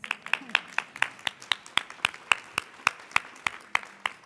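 One pair of hands claps at a steady, even rhythm after a speech at a racial justice breakfast, sharp distinct claps repeating close by with faint room noise between them.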